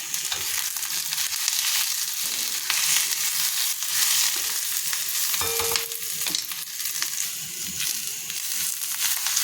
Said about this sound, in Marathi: कांदे छान असं तेल टाकून मस्त भाजून घेते आपण कांद्यांसोबत लसूण पण भाजून घ्यायचा